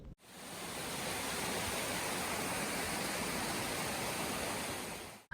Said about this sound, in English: the constant cascading of water hitting the ground below